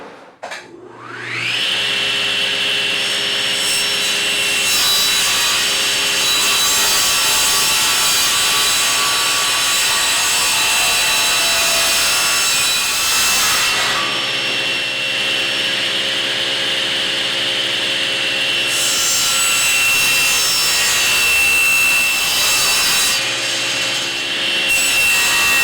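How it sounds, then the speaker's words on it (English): A power saw cuts through walnut lumber in a long, loud, steady whine that dips briefly twice between passes before resuming. "Now we start to talk about cutting walnut."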